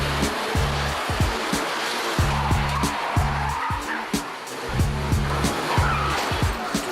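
Cars driving fast down a straight and braking into a turn on a stunt film set, with engine roar and tires squealing and skidding in repeated bursts, fairly close and loud throughout.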